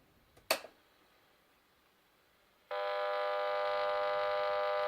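Interference hum from a switched-on CFL bulb picked up on an AM radio: after a brief click, a steady buzzing tone begins abruptly and continues evenly at moderate loudness.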